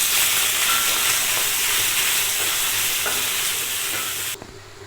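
Two large sliced onions sizzle and crackle in hot oil over spices already fried in the pan, a steady close frying hiss that runs for several seconds and then cuts off abruptly.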